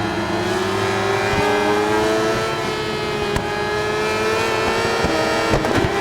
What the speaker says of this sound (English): That BMW sounds awesome